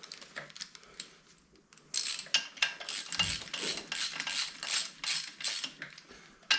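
Hand ratchet clicking in quick repeated strokes while undoing a nut on a classic Mini engine, close and crisp, starting quietly then turning steady and louder.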